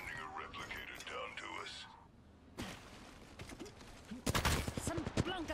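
Gunfire bursts from a round of Apex Legends, a rapid fusillade breaking out midway and growing denser toward the end, mixed with game effects while someone talks over it.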